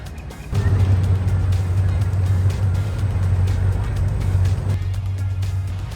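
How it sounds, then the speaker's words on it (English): Airboats in the Florida Everglades at a sawgrass park, heard as a loud, steady low engine and propeller drone that swells abruptly after the start and holds, with faint hiss and ticks over it and no speech. "These are airboats in the Florida Everglades."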